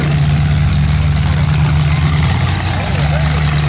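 A Lincoln Town Car prepared for a demolition derby idles with a deep, steady low rumble, close and loud, with strong wind noise and someone talking over it.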